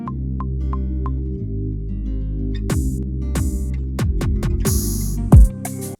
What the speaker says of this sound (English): Adding a sub bass for the intro.